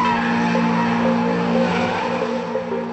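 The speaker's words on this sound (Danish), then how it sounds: "mens de unge kører ræs gennem lyskrydset." Cars race through a road intersection at night with tires squealing hard and engines roaring, a loud, dense, continuous skid that holds steady for the whole moment.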